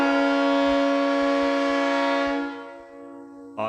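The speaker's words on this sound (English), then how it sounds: "That's a beautiful little horn." A played recording of a loud, rich harmonic horn blast held steadily for over two seconds before fading down, with a brief new burst starting right at the end; no talking over it.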